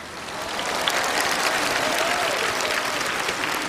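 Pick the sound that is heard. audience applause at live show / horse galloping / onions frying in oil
audience applause at live show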